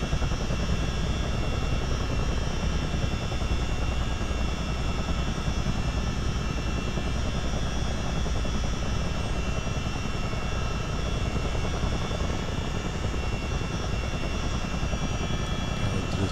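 CH-47D Chinook helicopter engines in a motion simulator, a loud steady droning turbine roar with a constant whine layered over a dense low rumble, unbroken for the whole stretch with no talk.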